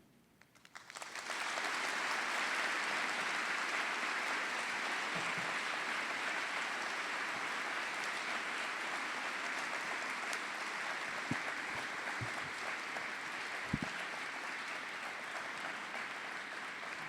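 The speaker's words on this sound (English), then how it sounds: "Can we get another round of applause for Paul, please?" A large school audience bursts into sustained applause after a Holocaust survivor's talk, dense steady clapping that builds quickly and continues loudly to the end.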